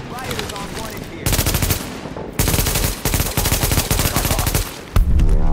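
Automatic gunfire in Tom Clancy's The Division, loud rapid bursts of machine-gun fire in several long strings with short pauses, close and dominant, with brief shouting voices between bursts.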